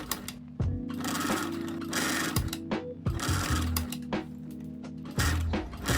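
Sewing machine stitching jersey fabric for a dress, a close, steady rapid clatter running in short bursts with brief pauses between runs and no talking.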